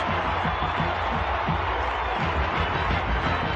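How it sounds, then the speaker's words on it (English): A roaring stadium crowd at an Oklahoma Sooners college football game against Iowa State, a constant loud wash of cheering and whooping around a kickoff, with no break. "the Sooner return team, or kickoff team, asking for some crowd noise"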